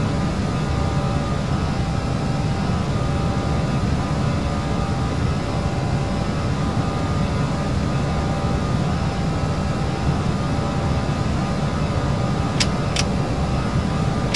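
Airbus A319 engines at climb thrust in a flight simulator, a steady, dense broadband roar with low rumble, constant and loud throughout, with no speech.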